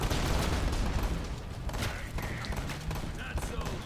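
Bursts of gunfire in the video game Narco Terror, rapid shots and thuds with explosive booms layered together at moderate level, continuous through the short stretch.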